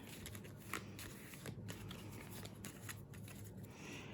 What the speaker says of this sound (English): And we're going to shuffle these up,